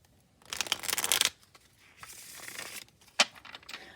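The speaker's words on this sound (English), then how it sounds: "All right, I could shuffle all day," A small Kawaii tarot deck being shuffled: two bursts of crisp riffling card noise, a longer one then a softer one, finished by a sharp snap of the cards, close and clear with no talking.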